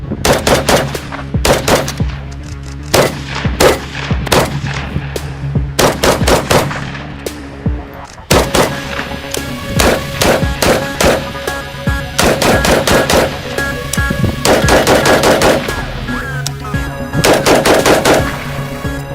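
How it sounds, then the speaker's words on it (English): A Type 56-2 AK-47 rifle with plastic furniture and a folding stock fires loud, close bursts and rapid strings of shots, with brief pauses between volleys and a short silence midway. "Today, we're gonna fire, all of them. Right here we have the Type 56-2."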